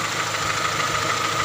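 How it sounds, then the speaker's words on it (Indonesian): A 1994 Honda Accord Cielo engine idles smoothly and steadily at close range, a constant even hum with no surging or talk over it. "Sangat halus mesin ini."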